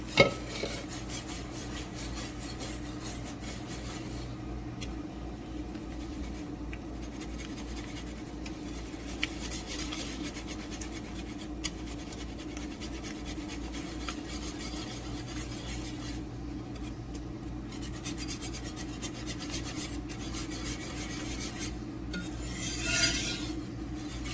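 A spoon stirs mushroom-onion gravy in a pan as liquid is added, making a continuous soft scraping and rubbing with occasional light clinks against the metal, up close and without talk.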